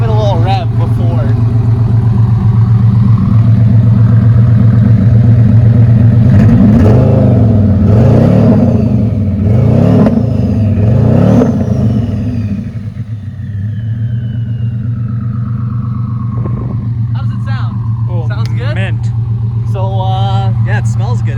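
Audi R8 twin turbo built by Underground Racing, running on race gas, revving repeatedly in short loud bursts over a steady heavy idle, close by, then settling back to idle as people talk nearby.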